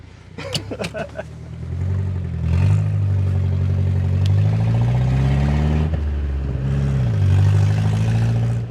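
A Datsun 910 Bluebird wagon with a swapped engine cruises along, its steady mid-pitched engine drone rising and falling gently inside the cabin while people talk over it.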